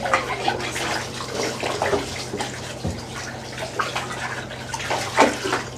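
Hot water runs steadily from a tap into a motel bathtub, a continuous close splashing rush with a low steady hum underneath and no one speaking.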